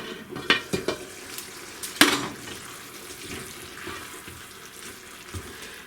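Metal clanks and clatters near a simmering pot of minced meat with mixed vegetables as its lid comes off, a few sharp knocks followed by a soft bubbling and rattling.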